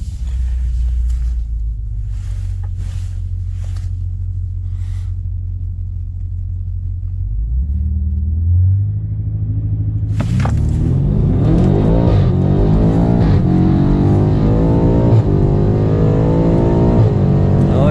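A tuned 800 bhp Stage 2 BMW F90 M5 accelerates hard toward 200 mph at a VMAX200 top-speed event, a loud low rumble building into a rising, strained engine roar that climbs steadily through the gears with wind noise.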